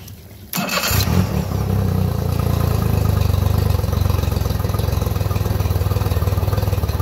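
A Mercury 40hp four-stroke outboard motor, fitted with a new fuel pump relay, starts with a short crank and then runs steadily at a loud, close idle with an even mechanical pulse and no talking.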